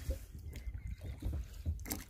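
A boat is rowed on a Masurian lake, with soft irregular water sloshes and paddle splashes over faint wind, close and fairly quiet.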